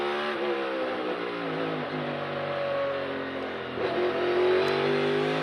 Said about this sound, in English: Here's Kurt Busch, who stayed on track to run another lap